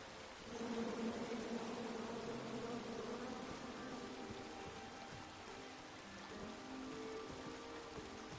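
Steady, dense buzzing of a bee swarm in the King's Quest video game, a continuous droning hum that holds for several seconds with no talking.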